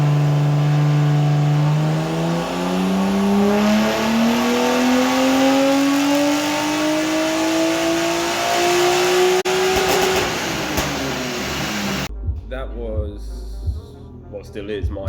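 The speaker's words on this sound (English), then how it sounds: "We'll chuck a dyno clip in here for you guys so you can have a look." A turbocharged drift car engine on a dyno revs steadily higher through the gears, a loud rising whine with turbo hiss, then cuts off and idles with a muffled flutter.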